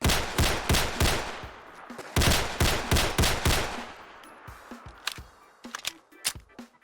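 Gunfire from the M9A1 pistol, a modern weapon added to Fallout 4 by a mod, rings out as a rapid string of sharp shots, then slows into a few scattered single shots and mechanical clicks.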